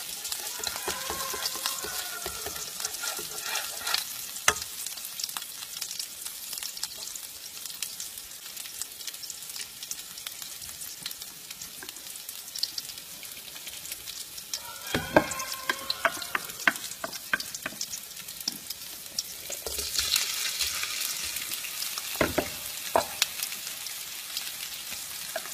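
Mussels and shallots stir-frying in hot oil in a pan, with a steady close sizzle and crackle that continues throughout and occasional stirring scrapes.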